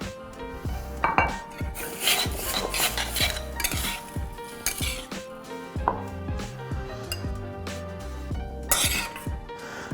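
Crispy tofu dressed with soy sauce and fresh ginger being transferred onto a plate, with busy clinks and scrapes of utensils against dishes and pans, steady and close throughout.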